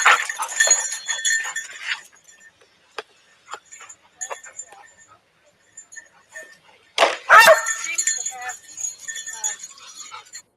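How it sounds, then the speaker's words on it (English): A search dog barks excitedly in loud, irregular bursts nearby, and people talk between and over the barks. "That's the dog the search dog."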